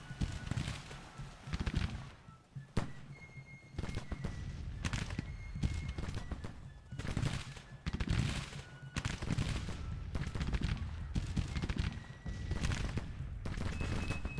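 Civil War artillery and musket fire in Grand Tactician: The Civil War, a series of sharp booms and crackling volleys every second or two across a distant battlefield, with faint hoofbeats and occasional high notes between shots.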